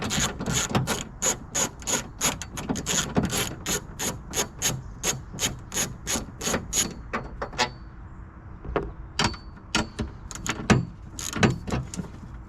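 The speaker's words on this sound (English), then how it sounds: "Using a 1/2-inch socket for that." Ratchet with a 1/2-inch socket loosening a bolt on a Silverado/Sierra pickup, a rapid run of sharp clicking strokes that slows to sparser, separate clicks toward the end, close and fairly quiet.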